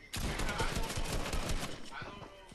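Rapid bursts of shotgun fire in a video game, a close, dense string of sharp blasts that fades toward the end, with voices talking over it.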